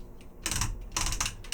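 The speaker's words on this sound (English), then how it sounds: "Nice ratchets all the way out." Ratchet joints on a Transformers toy robot clicking as a limb is rotated, short bursts of quick, crisp plastic clicks close up, with quiet gaps between the bursts.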